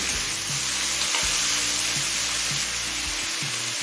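Sugar fries in a pan for chorchori, giving a steady close sizzle under a low repeating hum, with occasional soft stirring noises and no talk.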